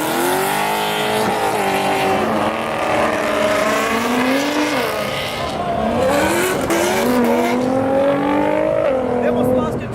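Mustangs pulling out of a Cars and Coffee meet accelerate hard, loud engines climbing and dropping through gears in overlapping sweeps, with some tire squeal and crowd chatter underneath.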